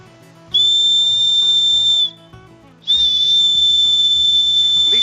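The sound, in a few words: emergency whistle on fire steel striker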